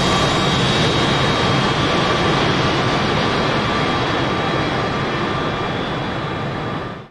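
Loud, steady jet engine roar from F-4 Phantom fighters taxiing in the flight simulator DCS during a 1991 Gulf War mission, a continuous broadband rumble with a faint whine that holds level and cuts off at the end.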